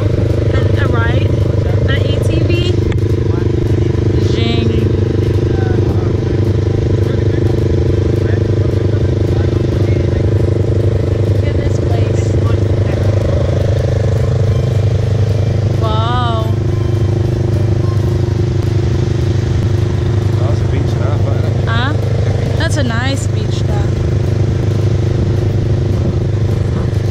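A go-kart or ATV engine drones loud and steady throughout a ride, never letting up, with wind rush and people talking and calling out over it.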